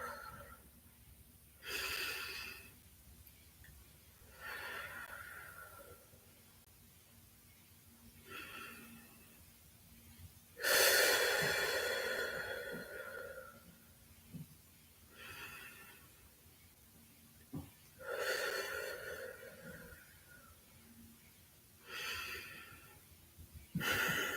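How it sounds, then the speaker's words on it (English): Slow deep belly breaths during a beginner yoga session, several faint airy exhales spaced a few seconds apart in a quiet room, one noticeably stronger than the rest. "So you want to fill up your belly with air. And then exhale."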